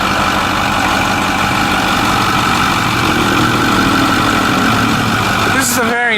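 The diesel Powerstroke engine of a 2008 Ford F350 Super Duty idles steadily and loudly throughout, a constant low rumble with a brief squeak near the end.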